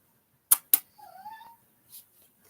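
A kitten gives one short, thin meow right after two sharp clicks, followed by a faint tap, heard close and clear in an otherwise quiet room.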